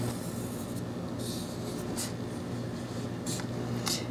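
Scissors snipping a circle out of material for a golf ball witch Halloween craft, a few soft, close cutting snips over a steady background hiss.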